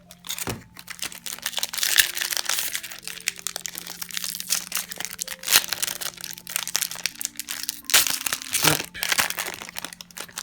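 Foil booster pack wrappers for the Middle-earth collectible card game, the Dragons expansion, crinkled and torn open at close range, a continuous dense rustle with sharper crackles and rips, loud and alone.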